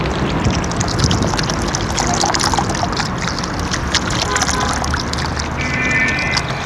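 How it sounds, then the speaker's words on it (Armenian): Cold artesian spring water pours and splashes steadily nearby, a continuous broadband rush that fills the whole stretch with no clear pauses. "Արտիզան ջրեր են։"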